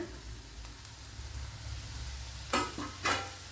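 Grated coconut stirred into shallots in a pan for a horse gram dish, heard as a faint low sizzle and rumble, followed by two brief bright scraping bursts from the stirring spoon near the end, no talking.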